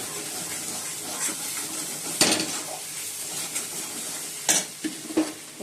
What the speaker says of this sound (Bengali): তা পনির মশলাটা কষিয়ে নিচ্ছি।